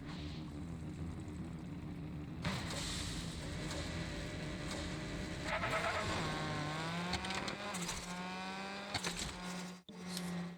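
Racing car engines in the video game Hot Wheels Unleashed 2: Turbocharged roar and whine continuously, revving up and down through gear shifts with a loud, game-like mechanical tone.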